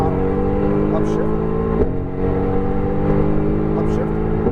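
Mercedes AMG GT R engine accelerating hard on a track, a loud steady drone with rising pitch broken by quick upshifts, heard from inside the car while a voice gives instructions over it.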